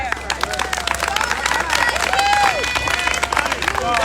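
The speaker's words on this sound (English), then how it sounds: "Another round of applause." Audience applause at a ranked choice voting campaign launch in Boston, a dense, steady patter of many hands clapping in a crowd, with some whoops and murmuring mixed in throughout.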